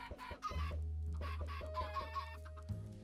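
Chickens in the Minecraft video game cluck in quick, repeated bursts, with several birds overlapping against a steady low game hum. The calls are fairly loud and close, with no talking.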